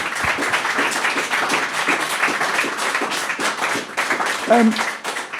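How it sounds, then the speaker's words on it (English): A quick round of applause from the audience at an art auction event, steady dense clapping throughout, fairly loud, with some voices mixed in. "a quick round of applause for Harland Miller at this moment in time"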